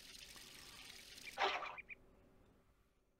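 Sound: watering a seed, Captain Kangaroo video game sound

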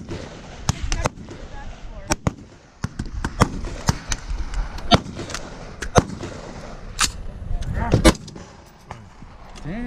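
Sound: gunshots from AR-15 BCM rifle at shooting range

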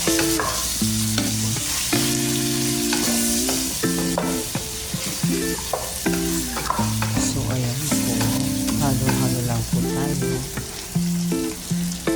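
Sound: stirring curry, turmeric and chili powder into cooking chicken

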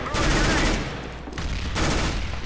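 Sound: flashbang thrown in video game Counter-Strike: Global Offensive

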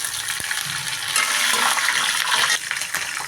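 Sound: green chillies sizzling in tempering oil for lemon rice

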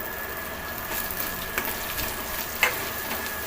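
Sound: green coconut onion coriander paste frying in oil

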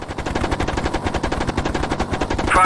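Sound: Hind helicopter cannon firing in flight simulator video game

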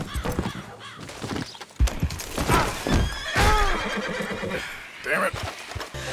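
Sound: horse neighing and hooves in Red Dead Redemption 2 video game

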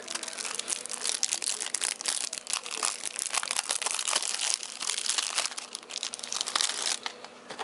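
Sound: opening Yu-Gi-Oh structure deck packaging

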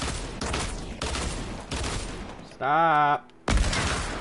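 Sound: dual pistols firing in Fortnite video game

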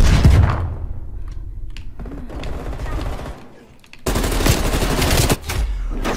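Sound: gunfire in a war video game

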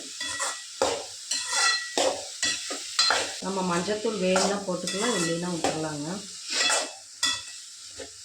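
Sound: onions and green chilies frying in a pan

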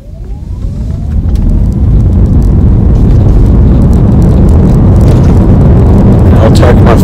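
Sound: electric vehicle accelerating at full throttle in EV mode

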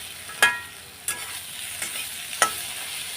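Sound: frying spice powders in a pan

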